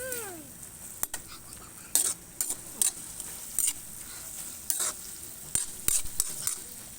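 Vegetables and sardines stirred in a pan, with a sizzle underneath and a series of sharp, irregular scrapes and clanks from a utensil against the metal, close up and without voices.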